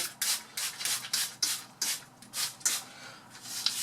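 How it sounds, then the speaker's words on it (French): A small spray bottle mists water onto a houseplant in a series of close, breathy hisses, about a dozen short bursts in a quick, steady rhythm. "j'utilise un petit vaporisateur et puis je la spray de l'eau dessus."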